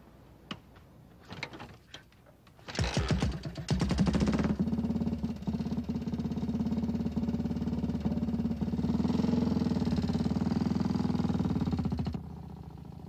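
A BMW R2 motorbike with a horizontally opposed twin engine starts after a few clicks, then runs at a steady, fairly loud idle for several seconds before easing slightly.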